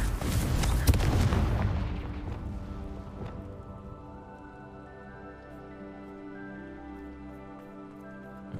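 A Confringo spell explosion in Hogwarts Legacy: one loud, booming blast up front that rumbles and fades over a few seconds into a quiet, tonal game ambience.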